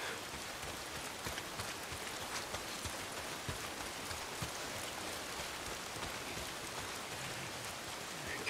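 Steady rain falls in the video game Days Gone, a constant hiss of drops hitting surfaces at a quiet, even level throughout.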